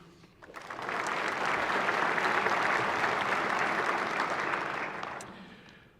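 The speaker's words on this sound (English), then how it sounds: "please join me in a round of applause for our distinguished guests" Audience applause for distinguished guests at a state judiciary address, a smooth swell of many hands clapping that rises, holds steady for several seconds and fades away, fairly soft and without talk.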